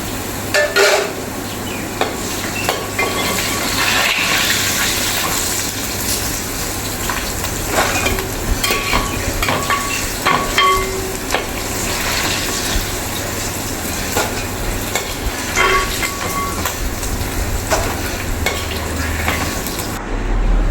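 Ivy gourd (kovakka) pieces fry in hot oil for pickle, a continuous close sizzle with scraping stirring and clinks of a spoon against the pan, loud throughout.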